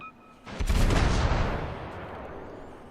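A single heavy cannon blast from a warship's guns in World of Warships, a loud booming report that swells quickly and then rolls away into a long fading rumble.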